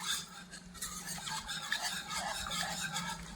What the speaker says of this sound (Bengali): এবার এখানে অ্যাড করব 1/2 চামচ আগার আগার পাউডার দিয়ে এটাকে আবারও ভালোভাবে নেড়ে নেব